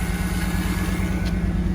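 A car engine idles steadily after a bad fuel pump regulator was replaced, a close, even, low rumble running throughout with no pauses.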